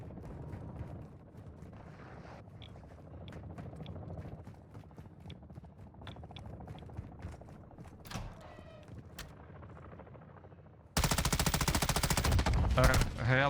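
Rapid bursts of assault rifle fire in Call of Duty Warzone DMZ crackle under a steady game soundscape, some shots sharp and near, ending in a loud sustained noisy stretch.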